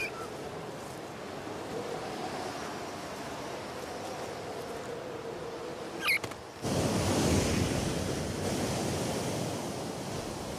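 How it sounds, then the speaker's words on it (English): Gale-force winds and pounding surf at sea level along a cold-front coastline make a dense, steady roar of wind and breaking waves that swells louder partway through. "Down at sea level, the cold fronts bring gale force winds, great for surfers"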